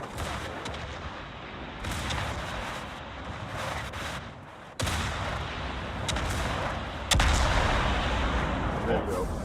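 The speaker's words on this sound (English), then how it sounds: "Now he's finally shooting." Warship guns firing in the naval battle game World of Warships, with heavy booming shots that cut in abruptly over a continuous rumbling battle din.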